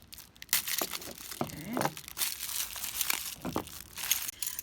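Old children's scissors cutting open plastic packaging around measuring cups and spoons, with close, crisp crinkling and tearing of plastic in irregular bursts. A voice speaks a single brief word.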